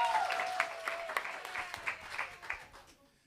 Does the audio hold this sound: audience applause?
yes